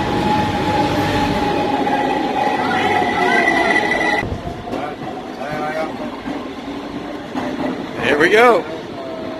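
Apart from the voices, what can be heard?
Cairo subway train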